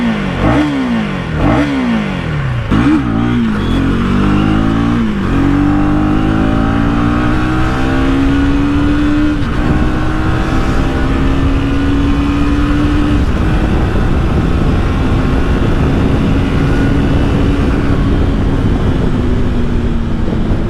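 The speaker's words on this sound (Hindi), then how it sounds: "तो आपको मैं एग्जॉस्ट की साउंड सुना दूँ।" A 2024 KTM Duke 250 motorcycle exhaust barks through several quick, sharp revs, then holds a loud, sustained high-rev roar that eases slightly near the end.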